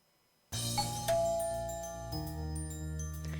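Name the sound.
doorbell chime sound effect from a video game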